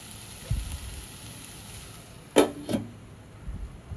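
Raw mango rice stirred and sautéed in a pan, with a soft, steady sizzle and a few brief scraping clatters of a spoon against the pan.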